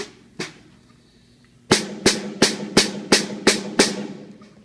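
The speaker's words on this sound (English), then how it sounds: "That's what creates your snare sound." A single soft tap, then seven crisp, bright snare drum hits with the snares engaged, buzzing rattle, evenly spaced and fairly close, with no voices.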